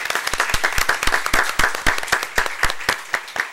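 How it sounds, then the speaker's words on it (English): A school board meeting audience applauds student representatives with loud, close, crisp claps in a fast steady rhythm, several people clapping together. "Let's give our students reps a big round of applause for their commitment"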